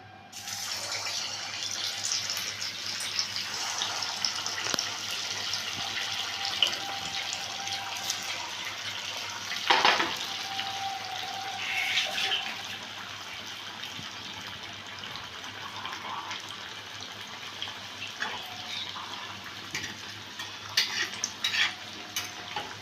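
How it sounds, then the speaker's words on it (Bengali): Semolina pakoras dropped one by one into hot oil in a wok, a steady close bubbling sizzle with occasional clinks and splashy bursts of frying, continuous and without speech. "এখানে আমি এবার হালকাভাবে লালভাবে এটা ফ্রাই করব।"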